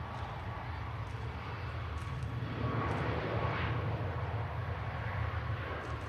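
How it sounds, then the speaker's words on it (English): A Corendon Boeing 737 MAX departs for Antalya, its engines a faint, distant, steady roar that rises gently in the middle and eases off again. "Corendon Max departing to Antalya"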